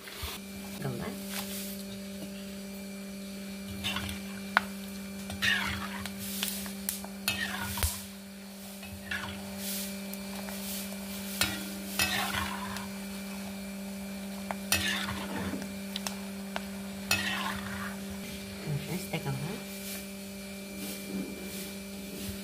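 Dried okra buttermilk sandige fried in a pan, with intermittent crackles and sizzles and occasional stirring scrapes over a constant mechanical hum, and a voice heard at times.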